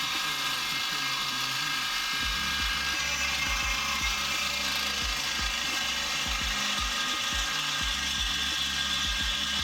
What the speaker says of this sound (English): Ironically, I didn't even have to press very hard to drill through.